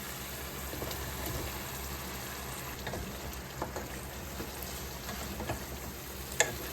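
Spice paste frying in oil in a pan in a Bangladeshi home kitchen, a continuous close crackling sizzle with a few soft stirring scrapes and one sharp clink near the end.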